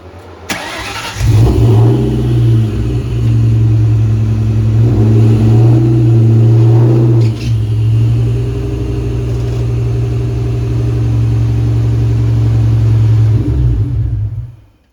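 A 2003 Ford Mustang Cobra engine idles and rumbles steadily at close range, with a slight rise as the car reverses, then cuts off at the end.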